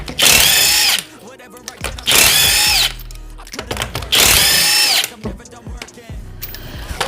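A Milwaukee 1/2-inch power tool works on a car's lug nuts during a flat tire repair at home, with three loud, close bursts of whirring, each about a second long, separated by clanks and handling noises.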